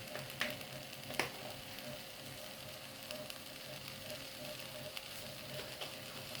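Basmati rice tossed in a pan with meat, turmeric, cinnamon and salt gives a faint, steady sizzle with occasional soft clinks and stirring scrapes, quiet and close, with no talking.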